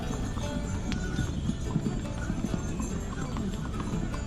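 Horses plod along a steep Yamunotri mountain trekking trail, hooves clip-clopping in a steady uneven rhythm close by, with faint voices in the background.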